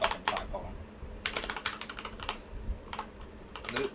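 Quick, irregular bursts of typing on a computer keyboard, close and clear, with short pauses between clusters of keystrokes while a settings search is entered.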